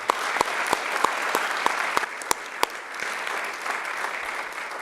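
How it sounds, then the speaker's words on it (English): An evening banquet audience at a Germantown Board of Mayor and Aldermen meeting gives a steady round of applause for award winners. Scattered sharp claps stand out over a sustained wash of clapping from a moderately distant crowd. "About one more round of applause for all of our winners this evening."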